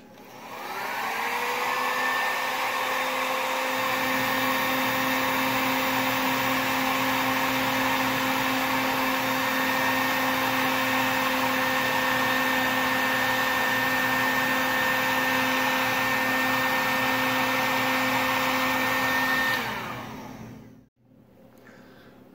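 A heat gun shrinking heat-shrink tubing on a car headlight wire roars steadily and loudly for about twenty seconds, its hum settling after a rising start, then cuts off abruptly.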